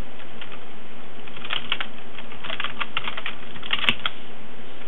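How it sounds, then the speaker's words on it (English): Rapid clicking on a computer keyboard as a network name and key code are typed, quick bursts of keystrokes with brief pauses, close and clear over a steady low hiss. "type in the name of your network, then double quotes, type in your key code"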